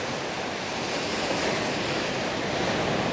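Ocean waves wash onto the beach at Koh Samet in Thailand, a steady, dense surf hiss mixed with wind noise, constant and fairly soft with no voices.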